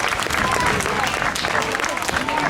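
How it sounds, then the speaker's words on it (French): An audience at a zoo sea lion show applauds steadily and loudly throughout, a dense wash of clapping with a voice speaking over it. "on peut l'applaudir bien bien fort"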